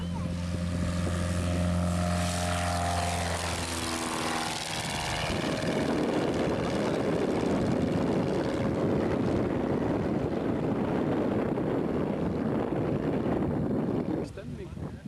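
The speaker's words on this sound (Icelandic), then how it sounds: "Þetta er eins og húsastærð þessar blessuðu þyrlur." Large helicopters thunder at an air show, a loud, dense rotor roar with low droning tones that gives way to broad rushing wind noise. It runs continuously and close, with people talking underneath.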